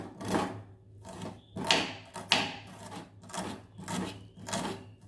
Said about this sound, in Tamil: எல்லாத்தையும் இந்த மாதிரி பொடியாக கட் பண்ணிக்கலாம்